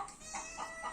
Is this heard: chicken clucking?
yes